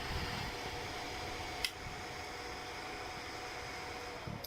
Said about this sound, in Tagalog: At saka yung tunog ng fan hindi na rin pauga-uga.